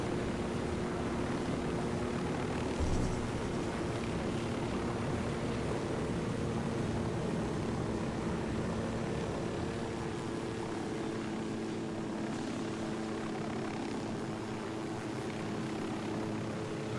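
Helicopter in Ghost Recon Wildlands, a continuous droning rotor and engine hum that holds steady and fairly loud throughout, with no talking.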